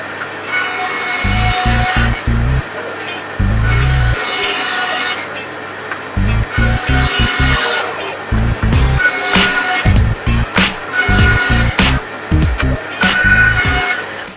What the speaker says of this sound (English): So what I'll do is I'll chop them all into strips the same thickness as that.